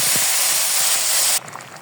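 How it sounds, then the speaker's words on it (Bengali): Sajna lentil dal hitting a hot pan in a home kitchen, a loud, bright sizzling hiss that holds steady before cutting off abruptly, leaving a quieter bubbling simmer. "এখন আমি ডালটা দিয়ে দেব।"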